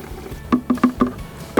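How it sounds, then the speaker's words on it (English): Fresh petrol is poured into the fuel tank of a Cobra MX460SPH lawn mower, a quick run of hollow glugging pulses close by in a quiet setting. "So we're just going to pour some petrol into there."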